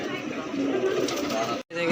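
Pigeons coo at a pigeon shop selling Madrasi and Punjabi desi birds, their soft low calls overlapping with nearby chatter before a brief cut-out.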